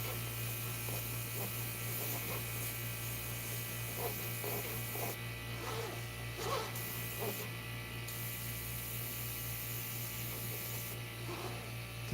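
An airbrush spraying Createx acrylic paint onto canvas gives a steady, continuous hiss under a constant electrical hum, with faint intermittent handling noises and no speech.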